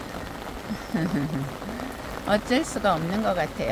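Steady rain falls over a Korean garden planted with hibiscus and dahlias during heavy summer rain, a soft constant hiss beneath a person speaking nearby.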